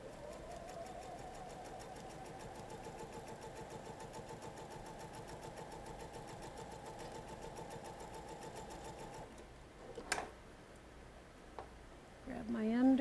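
A sewing machine runs steadily while stitching a quilt seam joining setting squares and triangles, giving a close, even mechanical hum for several seconds. A voice talks over it, then the machine stops and a few brief handling sounds follow.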